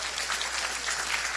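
Applause from the U.S. teams over a video conference link, a dense, steady patter of many hands clapping, moderately loud and compressed.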